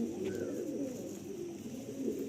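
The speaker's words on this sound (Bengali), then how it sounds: "দাদার লফটে কিন্তু সব পায়রা যা দেখবেন আপনারা" Pigeons of the Malwai, Madrasi and Andhra breeds coo in a loft, a low continuous burbling chorus from several birds, near and steady, with no talk.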